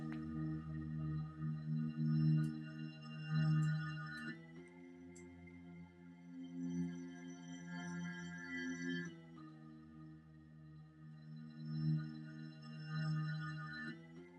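A sustained, warm synth pad plays slow chords that change every few seconds, with soft swells and no drums.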